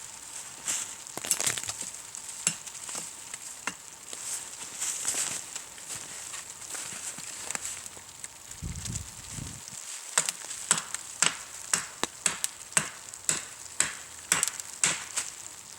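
A hatchet chops into a downed cedar log outdoors, sharp wooden strikes coming sparse at first and then in a quicker, steady series, fairly close and clear against a quiet background.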